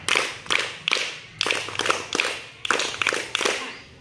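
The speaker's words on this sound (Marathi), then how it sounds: "त्यांच्यासाठी ना जोरात 3 टाळ्या द्यायच्या." A classroom group claps loudly and in unison, sharp close claps repeating in a brisk steady rhythm with short gaps between bursts.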